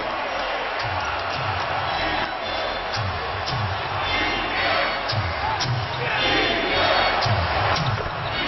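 Arena crowd noise at an NBA playoff game between Washington and Cleveland, a steady loud roar of cheering with bouncing ball thumps and a commentator talking over it.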